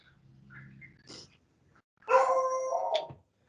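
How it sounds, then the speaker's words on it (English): A dog in a room makes short whimpering, breathy sounds, then a louder drawn-out whining howl, close by and with no talk. "Sorry, that's my dog."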